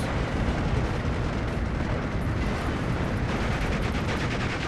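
A Katyusha rocket artillery barrage thunders through a Steel Division 2 battle, a dense, continuous roar of blasts and rumbling that fills the whole stretch with no pauses.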